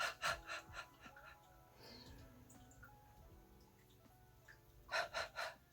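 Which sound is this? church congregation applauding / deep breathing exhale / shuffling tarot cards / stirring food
deep breathing exhale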